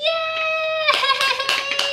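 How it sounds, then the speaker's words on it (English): A child claps hands several times in quick bursts over a steady electronic tone, with faint background voices. "Clap your hands."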